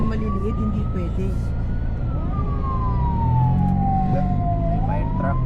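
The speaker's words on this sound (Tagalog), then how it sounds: "May fire truck." Fire truck siren wailing with a slowly rising and falling tone, loud and close, over traffic rumble on a city street, with people talking underneath.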